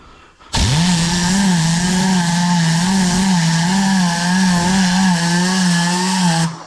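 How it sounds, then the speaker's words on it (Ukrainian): A Tornador air cleaning gun, fed with chemical and spraying inside a Hyundai Santa Fe, starts abruptly with a loud, continuous whining roar whose pitch wavers slightly and holds for about six seconds before cutting off. "Виставив подачу хімію на торнадорі."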